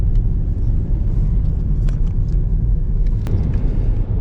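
A car drives along a road in Romania near the Isaccea border crossing, heard from inside as a loud, steady low rumble of engine and tyres with faint scattered ticks and clicks.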